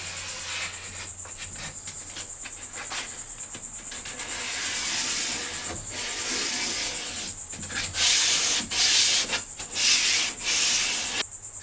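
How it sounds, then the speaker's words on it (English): Sandpaper rubs steadily along the grain of an old wooden dresser, a continuous close-up scratchy hiss that swells louder in repeated strokes toward the end, with no talking. "you definitely want to sand with the grain, otherwise you'll see some of these scratches"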